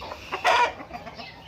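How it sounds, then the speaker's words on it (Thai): A seven-month-old fighting rooster lets out a short burst of clucking, one louder call standing out over quieter farmyard background, fairly close. "นี่เป็นไก่เจ็ดเดือนครับ"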